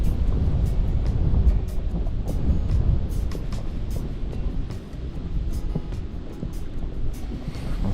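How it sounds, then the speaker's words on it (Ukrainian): Strong wind roars across the microphone in heavy low rumbling gusts while fishing from a small boat, with water lapping and occasional small clicks, steady throughout. "Вітер такий здійнявся, просто жесть."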